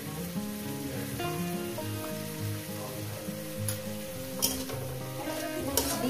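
Coconut and cashew powder frying in gravy, a steady low sizzle and bubbling with a few soft spoon scrapes near the end, close and even throughout.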